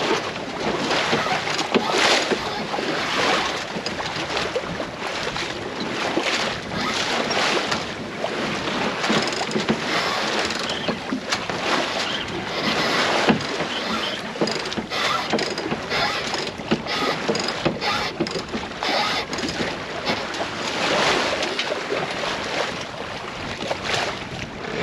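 A Jeanneau Sun 2000 sailboat under way at sea while the mainsail is hoisted, with constant loud wind buffeting, hull and water rush, and splashing waves throughout.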